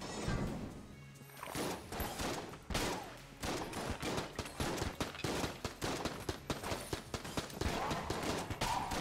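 Rapid repeated shotgun blasts in the video game Enter the Gungeon, a dense loud volley of sharp bangs in quick irregular rhythm that carries on throughout.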